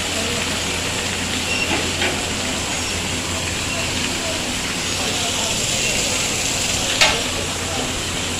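Hilsa fish frying in hot oil at Mawa gives a steady, dense sizzling hiss that holds at an even loudness throughout, with a faint clink near the end and background voices.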